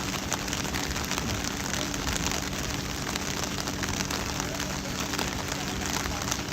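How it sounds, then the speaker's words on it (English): Heavy rain pours steadily onto an outdoor T-10 cricket match at night, a dense, continuous hiss of drops hitting the ground and surfaces close by, with a low rumble underneath and no pause throughout. "The rain is getting to be heavier"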